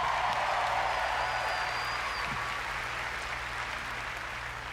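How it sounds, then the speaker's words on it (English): A live audience at a games showcase applauds presenters with a steady wash of applause heard at a distance. It stays even in level and fades slightly, with a low hum underneath. "Another round of applause, please, for Marty Hugo and all of our presenters tonight"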